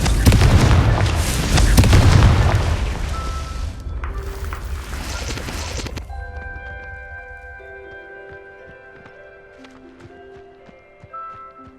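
A Confringo spell explosion in the video game Hogwarts Legacy: a loud, heavy fiery blast with deep booming rumble that cuts off sharply, leaving a quieter tail of tonal magical chimes and faint crackles.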